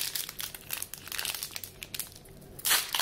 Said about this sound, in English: These packs are a little tough to open.